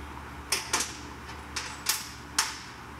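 A wrench snugs an alternator bolt on a 1999–2005 VW mk4: five sharp, separate clicks spaced unevenly over a few seconds against a quiet background.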